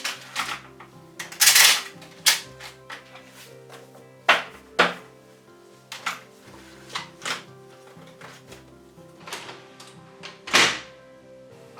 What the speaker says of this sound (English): Next, I load office paper to paper cassette.